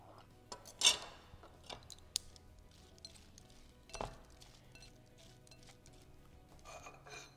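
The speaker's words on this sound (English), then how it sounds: "I have a couple of mint leaves that I'm going to chop into our salad" A knife chops a couple of mint leaves for a salad, giving faint scattered taps and rubbing scrapes on a board, sparse and quiet, with no talk.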